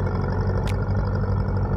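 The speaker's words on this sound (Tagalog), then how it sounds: "Pangatlong balik na ng traktora" Tractor engine plowing a farm field, a steady low rumbling drone with a faint brief click partway through, heard continuously without talk.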